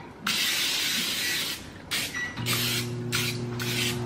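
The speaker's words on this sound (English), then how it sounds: "Then I'm gonna give this pan a good spray." Cooking spray is spritzed onto a pan in several short hissing bursts, one long spray followed by three quicker ones, close and distinct, with a faint hum underneath.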